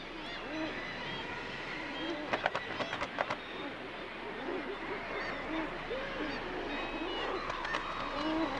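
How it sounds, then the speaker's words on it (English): Guillemots calling from crowded cliff ledges on the Saltee Islands, a steady colony din of layered calls with a few sharper bursts rising above the continuous background. "In April, the guillemots arrive to prospect the ledges."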